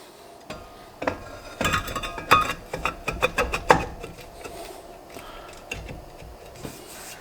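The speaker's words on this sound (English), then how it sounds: "Now the drum goes on." Brake drum being fitted onto a Jeep AMC20 axle, a series of close metallic clinks and knocks clustered in the middle, then fading to occasional light taps.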